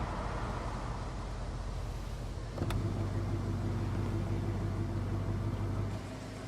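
A car engine in Life is Strange: Before the Storm, a steady low rumble that shifts with a click into a louder idling hum with tonal drone, then eases off at the end.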